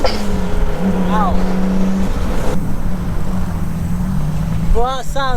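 A tuned 700 bhp Nissan Skyline R33 engine roars and drones nearby at a car meet, with sharp rising rev bursts and outdoor noise; voices are heard briefly.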